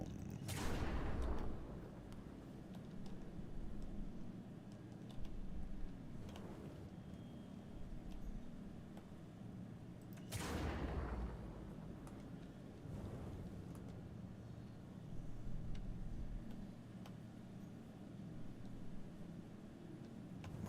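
Gunfire and explosive bursts in the sci-fi shooter game Star Citizen, with several loud broadband blasts spaced a few seconds apart over a steady rumbling game backdrop; no talking.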